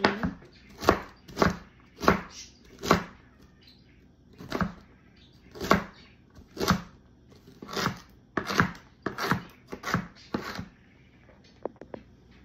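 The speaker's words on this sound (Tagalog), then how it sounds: "I-chop-chop lang natin ang ating celery." A knife chops celery on a cutting board in about fifteen sharp, close knocks, coming in irregular clusters with short pauses between them. No one speaks.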